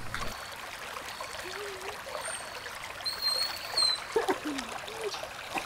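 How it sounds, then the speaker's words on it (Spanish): A mountain river flows with a steady broadband rush of water, and birds chirp lightly over it. A brief splashy burst comes near the end. "Aquí como ven estamos enfrente de, de un río"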